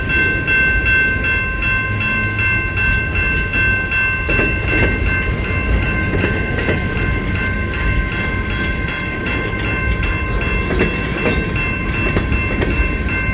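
A long CN freight train rolls past in South Rockwood, giving a loud, steady rumble of wagons with a sustained tonal ring over it, unbroken for the whole stretch and with no talking.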